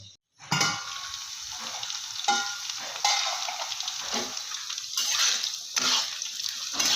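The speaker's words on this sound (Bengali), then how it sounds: "উচ্ছেটা ভালো করে ঢাকা দিয়ে এভাবে ভেজে নিতে হবে" Bitter gourd frying in a covered pan with salt bursts into loud sizzling after a short silent start, then a strong, wet hiss pulses in several surges and keeps going.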